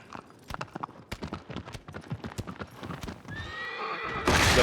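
Horse hooves clip-clop in a steady galloping rhythm in Shadow of the Colossus, close and clear, with a neigh near the end and a burst of noise closing it out.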